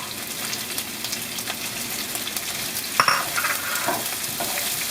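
Vegetables stir-fry in a hot wok for Thai drunken noodles (pad kee mao), giving a steady, loud sizzle with a brief sharp clatter of a utensil partway through.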